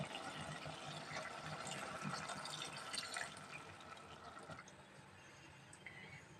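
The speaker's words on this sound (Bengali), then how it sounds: "আমরা এখানে বেশ খানিকটা জল দিয়ে দেব" Water poured into a pan of simmering dhaba-style rajma curry, a faint, continuous splashing pour that eases off after a few seconds into a quieter trickle.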